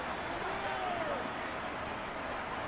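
A home stadium crowd in a Madden 24 simulated Jaguars vs Texans game keeps up a constant, dense roar with no distinct peaks, loud and enveloping throughout.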